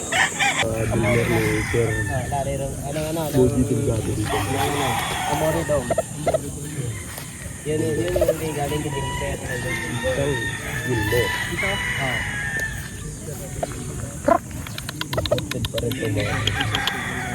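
Imported Hatch and Bulik gamefowl roosters crow repeatedly in a busy farmyard, several long crows overlapping with clucking hens, while people talk nearby throughout.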